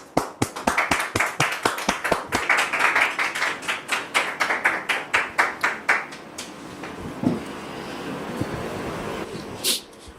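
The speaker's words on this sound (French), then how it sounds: "Merci de les recevoir sous vos applaudissements." A studio audience claps to welcome a mother and her fiancé on a French-language talk show, a loud, dense burst of hand claps that thins into scattered claps and fades after several seconds.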